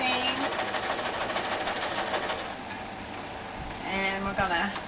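Sewing machine running steadily as it stitches a seam on a fabric earbud holder, a fast rhythmic whirring chatter heard close up with a brief slowdown near the end.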